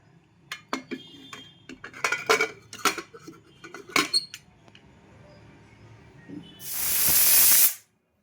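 Mushrooms cook in a pressure cooker on a gas stove. Scattered metallic clinks and knocks come first, then a single loud, sharp blast of escaping steam lasts about a second and cuts off abruptly.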